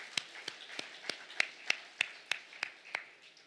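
Rhythmic congregation clapping during a festive church worship service, about a dozen sharp, evenly spaced claps roughly three per second, fairly faint and with no talk over it.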